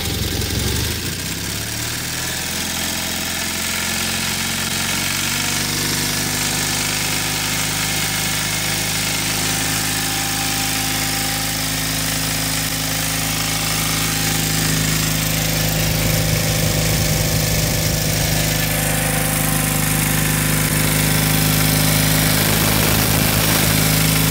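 A small 1984 John Deere 316 garden tractor engine idles steadily for a long stretch, running slightly high, a low throbbing hum that grows slightly louder and rougher toward the end.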